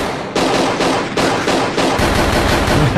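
Heavy, sustained automatic gunfire from soldiers firing on a crowd in a movie scene. Rapid bursts hammer on close and loud with no pauses, with no talking.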